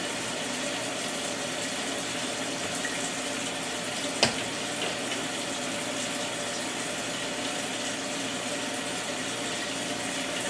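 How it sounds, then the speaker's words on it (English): Water pours steadily from a tap into a container for heating, a constant hissing rush with one small clink partway through. "I'm going to put some water in here and start heating it up"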